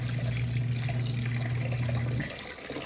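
A 26 lb Kuppet portable washing machine runs a wash cycle, giving a steady low motor hum with churning water that stops near the end, leaving a fainter trickle of water.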